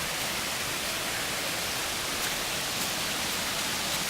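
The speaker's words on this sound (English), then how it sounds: "A really awesome waterfall." A waterfall and running water beside a bridge on the Rock Creek section of the Cumberland Trail, a steady, dense broadband rush with no breaks, heard fairly close and alone.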